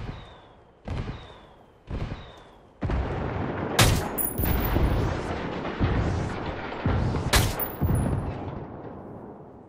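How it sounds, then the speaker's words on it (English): Mortar strikes in the shooter game Ghost Recon Wildlands: a string of sharp, heavy blasts builds into a loud, sustained barrage of overlapping explosions and rumbling impacts, with no talking. "I called the rebels for mortar fire."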